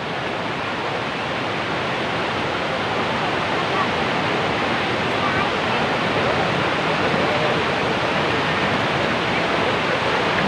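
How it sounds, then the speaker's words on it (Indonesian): Roar of a waterfall at Tawangmangu, heard from right below it: a dense, constant broadband rush of falling water, loud and unbroken. "Jadi saat ini kita ada di bawahnya persis ya, air terjun yang ada di Tamang ini."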